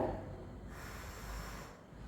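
A breath blown out forcefully during a home waist and belly exercise routine, a soft close airy exhale lasting about two seconds.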